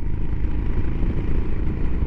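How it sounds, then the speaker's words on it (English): A Royal Enfield Himalayan motorcycle's deep, rumbling exhaust burbles steadily at close range, a low throbbing drone with no voices. "listen to that exhaust."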